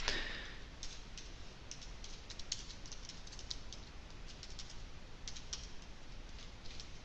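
Steady computer keyboard typing while writing Java code, a run of quick close key clicks over a faint constant hiss, with no speech.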